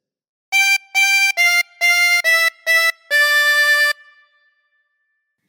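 A phrase of Twinkle Twinkle Little Star on harmonica, seven quick blown and drawn notes ending on a longer held tone that fades out, up close and unaccompanied by speech.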